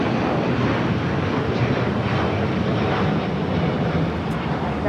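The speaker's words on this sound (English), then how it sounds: "The big Q, the second A350-1000 flight coming in from Doha, about to make that left-hand turn on to Lima." A Qatar Airways Airbus A350-1000 arriving at LAX, a steady, loud broadband roar of jet engines with wind buffeting, no breaks throughout.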